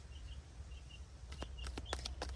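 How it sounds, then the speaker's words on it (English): Faint, high bird chirps come and go at a distance over a low hum, followed by a few sharp clicks near the end. "You guys hear the beautiful birds?"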